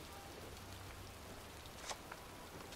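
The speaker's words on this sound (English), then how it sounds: "standing in a cemetery in pouring rain" Steady pouring rain hisses over a cemetery in the video game Heavy Rain, a constant dense wash with a couple of faint drips or taps standing out briefly.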